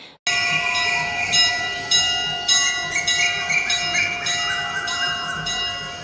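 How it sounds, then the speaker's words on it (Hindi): Steady ringing of bells during a Hindu aarti prayer, struck repeatedly in a continuous clanging wash with a sustained droning tone, no talking. "मैं यहाँ पे आरती की आवाज़ मतलब दिखा रही थी"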